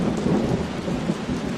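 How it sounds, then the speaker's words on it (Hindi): Thunderstorm with heavy rain, a dense steady roar of downpour with low rumbling thunder rolling through it, loud and continuous with no voices. "तभी अचानक तेज तूफान और बारिश शुरू हो गई।"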